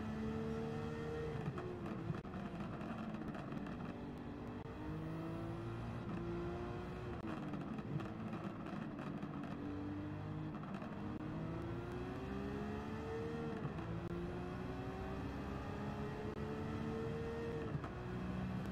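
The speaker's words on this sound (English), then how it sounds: "Oh man, that car sounds crazy." A V8 race car engine in the Gran Turismo 7 racing game revs and shifts through repeated rising pitch sweeps, continuous and fairly quiet, with no voices.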